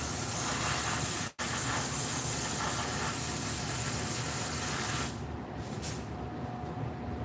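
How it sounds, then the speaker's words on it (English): An air-cooled Masters Airbrush Cool Runner compressor sitting in front of a fan runs with a steady, loud broadband hiss, broken once by a very brief dropout, then continuing somewhat softer. "So it's an air-cooled compressor."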